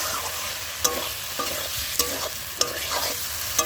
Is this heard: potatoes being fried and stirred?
yes